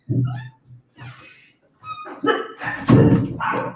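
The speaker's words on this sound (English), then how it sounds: "I got a dog that I think wants to get outside real quick" A dog barking and whining close by, several short yelps between bumps and thuds, with an excited, restless rhythm.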